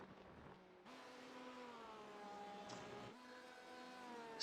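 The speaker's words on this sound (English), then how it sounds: "listening to their motor, it's almost out of gas. Like the engine is sounding broken in that car." Race car engine in the iRacing sim during a six-hour Le Mans event, running nearly out of fuel and sounding broken; a steady, uneven motor tone with shifting pitch, continuous and moderately quiet, no talk.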